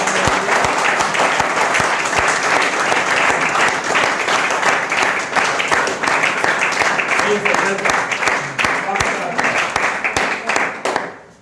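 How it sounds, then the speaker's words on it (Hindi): Audience applause fills a hall at a business seminar, a loud, steady stretch of dense clapping that carries on evenly and fades out at the very end. "जोरदार ताली हो जाए।"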